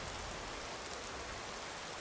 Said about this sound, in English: I had to get out of this blasting rain.